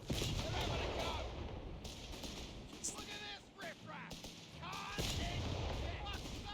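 Artillery and gunfire in a strategy war game, with repeated heavy bursts and crackling shots over a busy battle mix, broken by quieter gaps with softer scattered reports.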